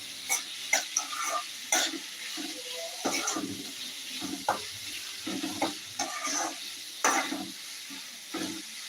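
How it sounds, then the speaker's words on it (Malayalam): Squid thoran is stirred in a frying pan, with a soft background sizzle broken by repeated scraping, clattering strokes of the spoon in an irregular rhythm. "നന്നായിട്ട് ഇളക്കി കൊടുക്കാം"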